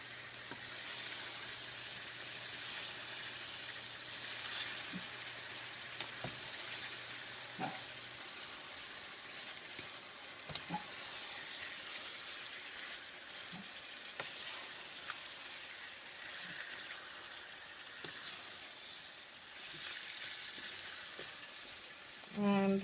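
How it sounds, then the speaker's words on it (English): Duck pieces fry in a pot with spices, a soft, even sizzle running throughout, broken by occasional light knocks of a stirring spoon, heard faint and fairly close. "So that's the duck that's going in. Giving it a little stir just to coat it with the spices."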